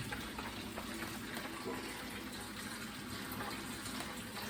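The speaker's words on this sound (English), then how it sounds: "I take this side of the sink, fill it up with some pretty hot water" Hot water pours from a tap into one side of a kitchen sink, a steady loud gushing rush that fills the space without a break.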